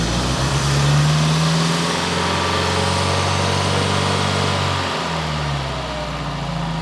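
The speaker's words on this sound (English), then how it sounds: "right now I'm going to fire it up, squeeze that one off and see if I can change the idle" Citroen BX 4WD engine with a faulty idle air control valve, running at a steady low idle that dips briefly and then settles again, close and continuous with no talk.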